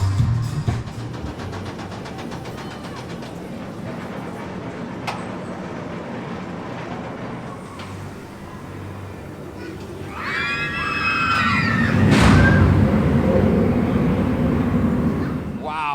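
Riders on the Oblivion roller coaster at Alton Towers scream as the train rumbles along the track, with the rushing rumble building louder toward the end and voices and screams over it.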